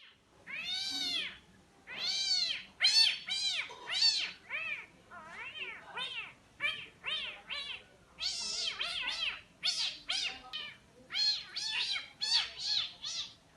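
A cat meows repeatedly at close range in a long series of loud, drawn-out, plaintive cries with short pauses between them, some rising into caterwauling.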